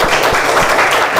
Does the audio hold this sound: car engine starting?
no